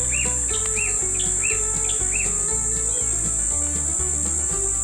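Birds sing outdoors beside a garden where bio-fertilizer is mixed, their short repeated chirps and whistles rising over a steady, dense insect drone and a low background rumble.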